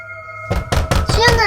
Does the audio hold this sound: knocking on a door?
yes